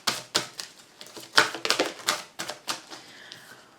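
Oracle cards being shuffled and drawn, a run of quick papery riffles and flicks in close, irregular bursts with no voice.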